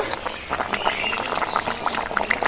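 Cauliflower and potato curry being stirred in a pot, with steady wet scraping and gentle bubbling throughout, close and moderately loud with no voices.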